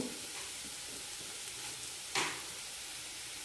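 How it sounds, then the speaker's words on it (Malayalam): Colocasia (taro) masala being sautéed and fried in a pan gives a steady, soft sizzle with occasional stirring, plus one sharp louder hiss burst near the end; no one speaks. "നന്നായി മിക്സ് ചെയ്യാം നന്നായി വഴറ്റിയെടുക്കണം"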